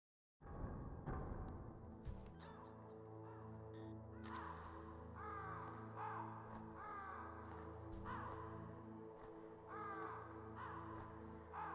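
Crows cawing in the Metal Gear Solid video game, several harsh caws repeating over a steady droning game soundtrack, moderately loud throughout.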